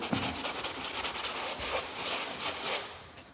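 Dry, steady rubbing of sandpaper across a cardboard surface to roughen its texture before adhesive, repeated back-and-forth strokes close up and moderately loud, with no voices.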